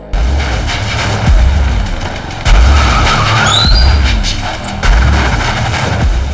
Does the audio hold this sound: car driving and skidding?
yes